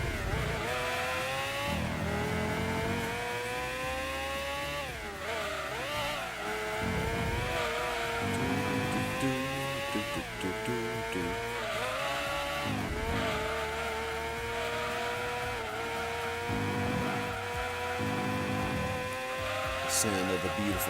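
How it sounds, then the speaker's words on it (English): A race car engine in Gran Turismo 2 screams through high RPMs on a Rome endurance circuit, rising and falling through repeated gear changes, loud and continuous, with a tire squeal near the end. "Sound of the beautiful engine. Look at all those RPMs, golly."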